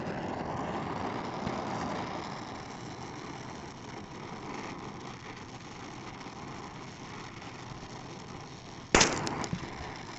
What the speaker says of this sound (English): There's one of the pops that I told you about. I got a little bit too close with my welding gas.